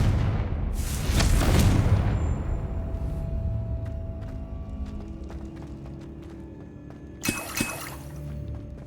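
A Confringo blasting spell bursts in Hogwarts Legacy, a loud broadband explosion that blooms and fades over a couple of seconds, followed by scattered debris clatter and a second sharp crack later, with no talk.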